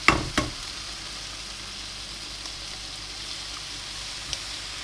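Ingredients for a steak sandwich with the lot frying in a pan, a quiet, steady sizzle running under everything, with a couple of sharp utensil knocks at the start and another near the end.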